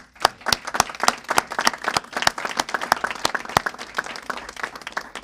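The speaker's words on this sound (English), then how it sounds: "I think he deserves a round of applause." An audience at a bill-signing event applauds the governor with sharp, distinct claps from a modest crowd, close and lively, a few hands standing out over the steady clatter for several seconds.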